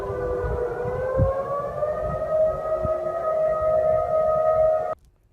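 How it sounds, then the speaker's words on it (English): A tsunami warning civil defense siren in Kodiak, Alaska wails steadily with a sustained rising tone, loud and continuous, then cuts off abruptly near the end. "Those were sirens out in Kodiak, Alaska earlier this morning. They were signaling a tsunami warning."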